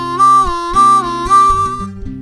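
Blues harmonica playing a call lick in the lower octave, a few sustained bent notes with breathy swells in a short phrase, close and clear with no talking.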